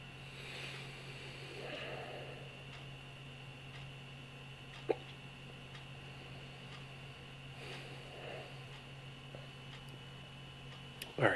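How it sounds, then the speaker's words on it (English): Hiccups from a man tasting a holiday variety pack of IPA beers, a few sharp isolated hics spaced several seconds apart over a steady hum, with one more near the end. "I will definitely be trying to clear these hiccups because this is getting annoying."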